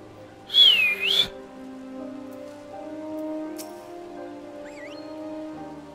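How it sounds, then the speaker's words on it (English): A character in the video game Final Fantasy XIV whistles a short rising-and-falling tune, loud and clear for about a second, over quiet sustained background music with a faint chirp later. "Isn't that like the most default whistle ever?"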